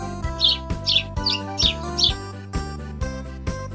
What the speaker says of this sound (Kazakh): Торғай.